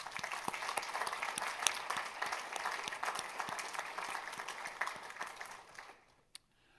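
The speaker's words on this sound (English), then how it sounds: "I'd like to give him a round of applause for his strong leadership" A large audience at a university event applauds a city councilman, a sustained dense roar of clapping that holds steady for several seconds then quickly dies away, with one late stray clap.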